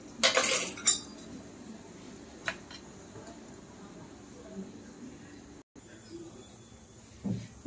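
A large spoon stirs sabudana batter in a bowl, giving a burst of clinking and scraping at the start with a few lighter clinks afterward, under faint background noise.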